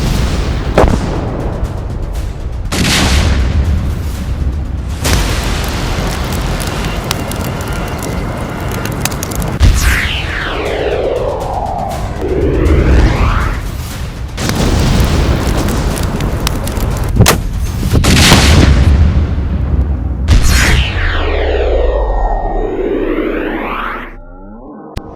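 RPG rocket blasts sound as a series of heavy booming explosions, several loud bursts spaced several seconds apart with rumbling decay and sweeping tones between, no talk.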